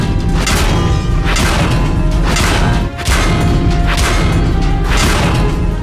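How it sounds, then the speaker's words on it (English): Medium-damage hit sounds on a tank in World of Tanks: about five heavy, booming metallic impacts strike in quick succession, loud and close, each with a ringing, crashing decay. "This is the medium damage sound."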